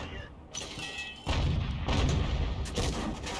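A 105 leFH18B2 artillery gun fires in a tank video game, a loud heavy boom followed by a sustained roaring rumble and further blasts, close and dominant throughout.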